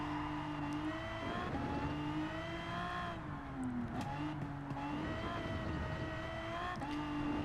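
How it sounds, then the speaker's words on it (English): An Aston Martin Vulcan race car engine in Gran Turismo 7 drones steadily with a bright, layered whine, pitch dipping and climbing as it shifts, loud and continuous without pause. "at least it sounds great"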